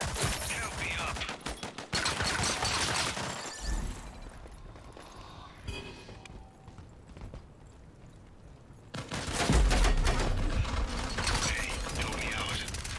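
Rapid automatic gunfire in a shooter video game during a fight over an objective: dense bursts at the start, a quieter stretch of scattered mechanical clicks, then heavy sustained firing again, loud and close.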